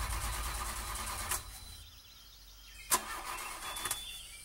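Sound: car engine starting

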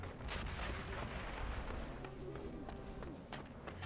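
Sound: gunshots in the video game Sniper Elite V2

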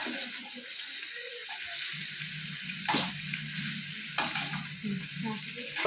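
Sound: bitter gourd frying crisp in a pan

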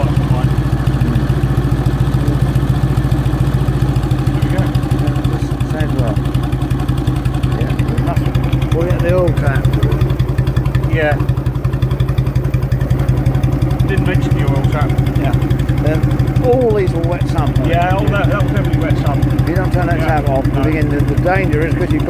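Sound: 1963 AJS Model 31CSR 650cc motorcycle engine idling

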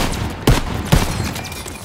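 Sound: gunfire in Call of Duty WWII video game

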